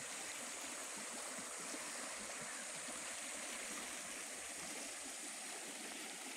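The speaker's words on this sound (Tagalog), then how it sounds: "Yan, ang umaagos sa tubig." Water of a wide, deep river flowing steadily past cottages and bathing spots, a continuous broad rushing wash, fairly close and even throughout, with no voices.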